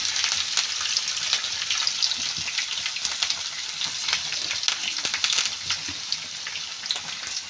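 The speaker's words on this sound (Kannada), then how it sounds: "ಈಗ ಕರಿಬೇವು ಮತ್ತು ಮೆಣಸಿನಕಾಯಿ ಹಾಕ್ಕೊಳ್ತೀನಿ" Curry leaves and green chillies sizzle in hot oil for a tempering, a steady, close crackling hiss with scattered sharp pops throughout, no voices.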